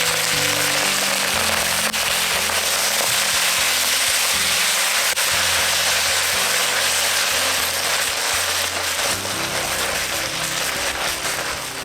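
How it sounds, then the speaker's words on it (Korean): Loud, continuous sizzling and crackling of seaweed stir-frying in hot sesame oil in a pot, with scattered pops and scraping throughout, no talking. "정말 뜨겁게 달궈졌을 때 참기름을 넣고 미역을 볶아줄 거예요."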